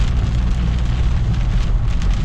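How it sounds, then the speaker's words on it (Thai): Heavy rain pours down steadily in a roaring, dense hiss during a drive home in Thailand, loud and unbroken with a deep rumbling low end and no voices. "ตอนนี้ฝนมาตกหนักนะครับ"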